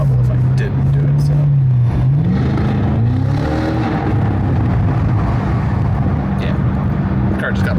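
Close, loud engine note of a Cadillac CT5-V Blackwing accelerating under an underpass, with a deep drone that climbs in pitch through a shift and sustained echoing rumble, while a person talks over it.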